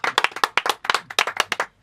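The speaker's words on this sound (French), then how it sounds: "Waouh, est-ce qu'on peut encore applaudir?" Studio audience applause, a brisk run of sharp, close individual handclaps in quick uneven rhythm, sounding like only a few people clapping rather than a large crowd.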